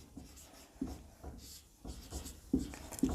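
Pen or chalk writing out the given equations of a Class 10 maths problem, a series of short scratchy strokes with brief pauses between them, close and fairly quiet, with no talking.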